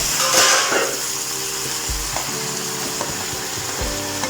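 Onions sizzle in a pan at home as they are stirred, a bright frying hiss with a louder burst early on, followed by a few dull knocks and scrapes of the spoon against the pan.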